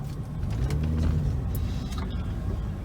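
Interior of a car driving slowly through a parking lot in Colorado, a steady low engine and road rumble with faint clicks, no talking.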